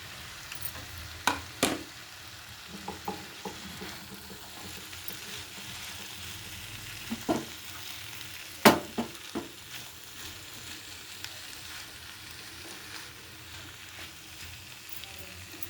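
Malabar spinach greens sizzle in a pan, a low continuous frying hiss broken by a few sharp clacks and scrapes of stirring, close and moderately quiet, with no voices.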